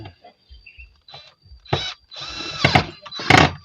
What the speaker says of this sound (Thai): ทีนี้ก็ไขควงซ้ำ